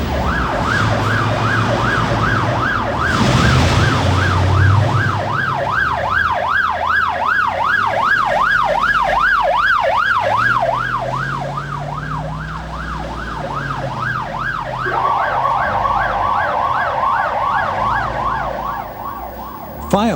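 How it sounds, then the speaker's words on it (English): Fire engine sirens blare loud and close as the trucks race to a scene, a fast wailing yelp that cycles rapidly, then shifts to a different steady tone near the end, over a rumbling engine. "With their sirens blaring and blue lights flashing, they waste no time on their way to the scene."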